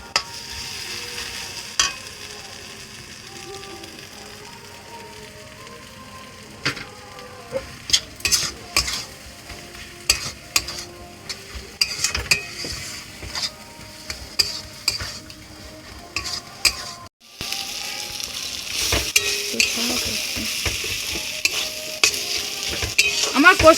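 Soybean cutlet filling with garam masala is stirred and sautéed in a pan: a steady sizzle runs throughout under repeated close spatula scrapes and taps, and the frying grows louder and brighter near the end.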